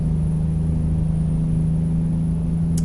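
A Kenworth W900 truck engine in American Truck Simulator drones steadily at a constant low pitch, a loud, even rumble with a faint whine on top and a brief high tick near the end, with no talking.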